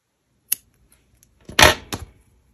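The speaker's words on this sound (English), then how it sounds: "then you can just trim the excess yarn" Scissors trimming excess crochet yarn: a single crisp snip, then a brief cluster of sharp, close cutting clicks after a pause, in an otherwise quiet room.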